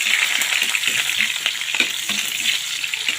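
Wild dove pieces fry in cooking oil for adobo, a continuous loud sizzle with crackling pops and stirring scrapes throughout, no voices.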